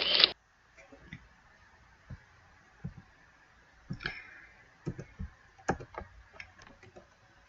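Sparse, quiet mouse clicks while presenting PowerPoint slides, single sharp ticks spaced irregularly over several seconds, close and isolated in a quiet room.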